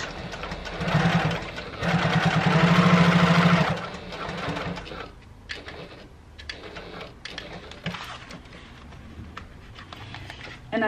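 A Janome HD9 sewing machine top stitching runs in a loud, steady mechanical whir in two close stretches, then stops, leaving quieter fabric handling and small clicks.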